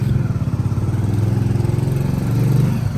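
A motorbike ridden at night in a village, its engine a loud, steady mid-pitched drone with rhythmic pulsing, close and continuous with no talk.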